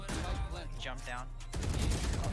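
Video game gunfire bursts into rapid overlapping shots partway through, following a stretch of loud excited talk from a streamer.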